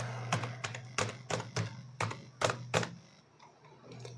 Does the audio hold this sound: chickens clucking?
no